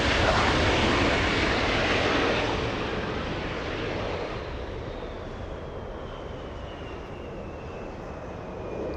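A Southwest airliner takes off from runway 24 left at LAX, its engine roar loud and broadband at first, then easing and fading steadily as it climbs away, with a faint rising whine trailing off.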